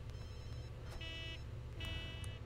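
A telephone in The Sims 2 video game rings twice in short electronic trilling bursts, faint and set against a steady low background hum, with no talk.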